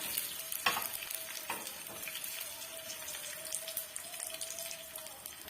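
Garlic fries in hot oil for an Andhra tomato chutney, a soft continuous sizzle with scattered crackles and pops and a few scraping stirs of a spoon in the pan, heard up close.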